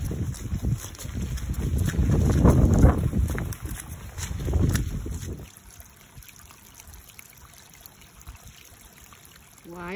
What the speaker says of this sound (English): it's still pretty windy and it's gonna get cold tonight